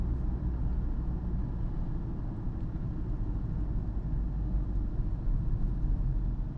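A car's engine hums steadily in third gear while driving along a single lane of Chennai city traffic, a constant low rumble with road noise and no pauses.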